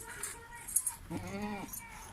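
A goat bleats nearby, a wavering nasal cry lasting about half a second, with other faint noises around it.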